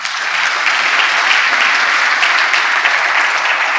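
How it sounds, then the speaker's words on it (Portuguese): A church congregation breaks into loud, sustained applause, a dense even wash of many clapping hands holding steady throughout without any speech over it. "Aplaudo o Senhor forte."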